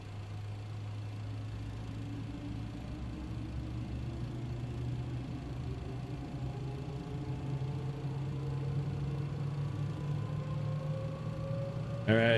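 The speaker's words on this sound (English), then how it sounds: "There's the engine starting to spin up." MD-11 jet engine spinning up in Microsoft Flight Simulator, a low steady hum joined by rising whining tones that climb slowly over several seconds, fairly quiet, ending in a brief louder burst.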